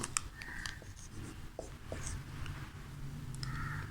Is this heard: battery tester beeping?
no